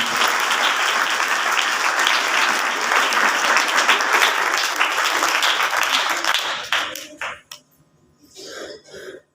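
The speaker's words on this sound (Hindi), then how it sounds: "इनके लिए एक दफ़ा भरपूर तालियां बजाइए" A church congregation applauds loudly for several seconds during a celebration night Mass, then the clapping thins out and fades, followed by a few scattered voices.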